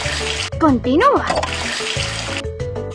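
A water tap runs into a kitchen sink while apples are washed in a cartoon children's video game, a steady watery rush beneath playful game sound effects and a spoken narrator voice.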